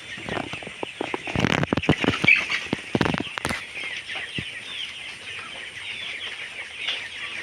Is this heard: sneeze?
no